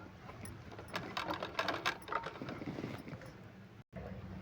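A sewing machine stitches a palazzo pant, running in a continuous mechanical whir with rapid ticking that swells in the middle and cuts out briefly near the end before resuming.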